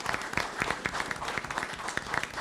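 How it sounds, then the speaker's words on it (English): A crowd at a school board of education meeting applauds steadily, dense clapping at a fairly even level throughout the short stretch. "can we give Elle a round of applause for a great year if you're watching?"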